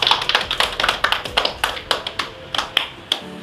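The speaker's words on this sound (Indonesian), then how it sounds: "Beri tepuk tangan untuk Mbak Nurita ya" A class of students claps for a classmate, sharp individual hand claps at a loose, uneven rhythm, close and distinct, with a few overlapping; the burst slows and stops near the end.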